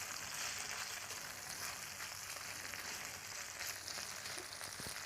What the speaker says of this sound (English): let the anchovies heat through and break down. This is going to take just a couple of minutes. So just a quick sort of saute.